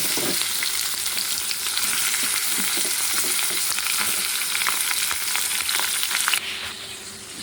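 Chicken pieces hit a pan of lightly fried onions with a broad, steady sizzle and scraping stirs throughout, the frying noise dropping slightly near the end; no one talks.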